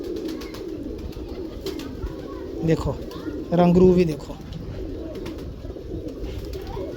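Pigeons cooing close by, a prominent burst of deep rolling coos midway and softer calls throughout, with someone talking over them.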